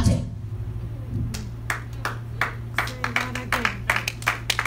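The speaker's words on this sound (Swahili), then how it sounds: "Makofi yameanzia kule" Audience applause in a church or talk setting, a scatter of individual claps breaking out and building into quick irregular clapping over a steady low hum, with a brief voice at the start.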